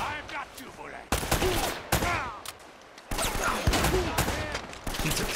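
Gunfire in the video game Uncharted: Drake's Fortune comes in loud, dense bursts separated by brief lulls, sharp reports piling into rapid volleys across the whole clip.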